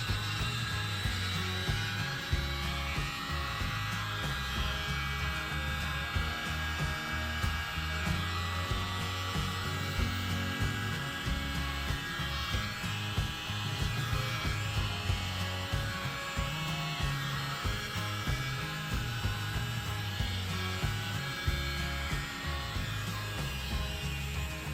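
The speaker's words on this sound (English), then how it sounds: "And then we'll blow this one out and see what we get." Steady, loud rush of blown air pushes acrylic pour paint across a wooden earring blank to open up cells, a continuous whooshing hiss with a low rumble that runs unbroken and close throughout.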